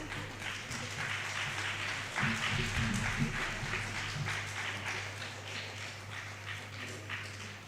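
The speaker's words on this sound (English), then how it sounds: "A big round of applause for him, please." An audience at a book release claps, a steady, dense round of applause held throughout, with some low hall rumble beneath and no talk.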